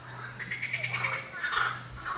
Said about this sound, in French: Il y a des Ah grenouilles ouais. juste à côté de nous sur l'étang